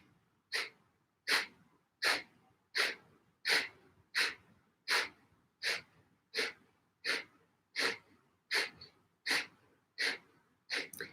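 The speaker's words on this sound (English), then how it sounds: "take a big deep breath in, breathing out through the nose" Slow, strong breaths exhaled through the nose during a guided deep-breathing exercise, about fifteen airy rushes in an even rhythm, each rising then fading, close and alone.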